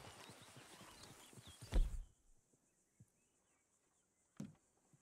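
A horse gallops in Red Dead Redemption 2 with a brisk clatter of hooves that builds to a loud thud and stops, followed by a couple of isolated knocks and a short rustle.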